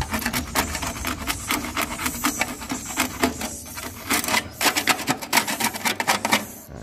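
Dried swiftlet nest being scraped and brushed clean by hand, a dense run of rough rasping strokes with a quicker, choppier rhythm toward the end.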